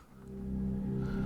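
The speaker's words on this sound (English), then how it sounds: "The next part I added was this drone" A low, sustained synthesized drone hums steadily, swelling slightly in loudness, soft and alone with no voices.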